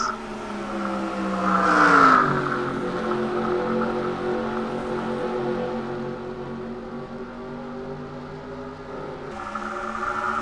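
Race cars running down the back straightaway, a steady engine whine whose pitch surges and then drops as the cars pass, followed by a sustained drone and a fresh rise near the end.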